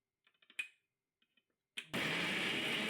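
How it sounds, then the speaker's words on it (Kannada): A few quiet clicks and taps of handling give way to a kitchen mixer grinder starting up, which roars loudly and steadily as it grinds tomato, garlic, onion, ginger and two red chillies. "ಮಿಕ್ಸಿಯಲ್ಲಿ ಹಾಕಿ ಇದನ್ನು ರುಬ್ಬಿಕೊಳ್ಳುವ."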